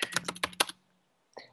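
Six quick keystrokes on a computer keyboard clatter in a close, fast burst while a search topic is typed, then a brief pause before one last soft tap.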